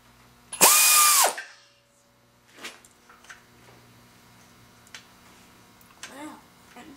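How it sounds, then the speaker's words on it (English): A burst of ratchet clicks as engine bolts are tightened during engine assembly, one loud run up close followed by scattered softer clicks and handling noises. "now we just got to tighten the bolts"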